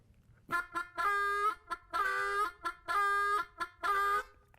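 Chickens at a chicken farm cluck and call in a repeated pattern of short bursts and longer drawn-out squawks, loud and close with brief pauses between them.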